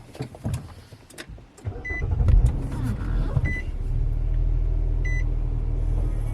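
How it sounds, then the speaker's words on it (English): A car engine starts, with a few clicks and thumps followed by a cranking surge that settles into a low, steady idle rumble, heard from inside the vehicle along with a few electronic beeps. "the first thing we have to do is start the vehicle"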